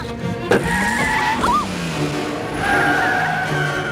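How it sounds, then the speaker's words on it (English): Car from an Indiana Jones and the Dial of Destiny chase scene, its engine revving with tire squeals and skidding over a continuous roar, mixed with film score and brief voices. "there's a kid driving the car!"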